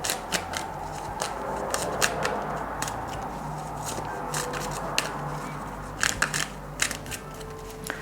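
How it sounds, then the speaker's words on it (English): Rider-Waite tarot cards are shuffled repeatedly, giving quick papery riffles and snaps in irregular bursts against a low background hum. "I'm going to take my Rider-Waite cards and I'm going to give them a shuffle"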